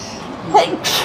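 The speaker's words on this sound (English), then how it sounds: "I'm sorry. I can't stop sneezing." A single short sneeze, fairly close, following a quick inhale, in a quiet room.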